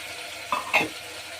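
Soaked peas and a few curry leaves drop into hot oil, giving two quick bursts of sizzle with a stirring scrape, close and fairly quiet, over a soft steady frying hiss.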